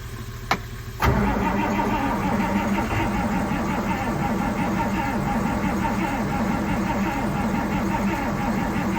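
A 1938 Dodge diesel engine cranks over after a couple of sharp clicks, the starter spinning in a loud, steady, rapid churn that continues without catching.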